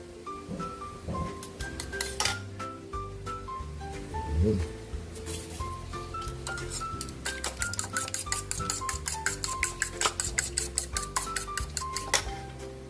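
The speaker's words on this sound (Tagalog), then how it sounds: "Mag-scramble na tayo ng ating itlog" Fork or utensil clinking against a bowl while eggs are scrambled for a Filipino eggplant omelette, tortang talong; quick rhythmic taps grow denser toward the end, with music playing throughout.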